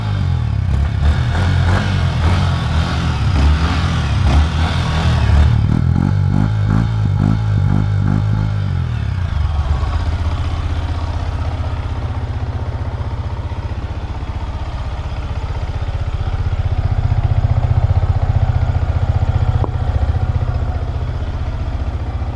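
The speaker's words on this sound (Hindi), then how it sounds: "बाकी अब अगर हम देखें इसके एग्जॉस्ट के साउंड तो आप देख सकते हैं" A Yamaha MT15 motorcycle's exhaust idles loud and close, a steady low engine rumble with some clattering and a few revs early on, then settling into an even idle.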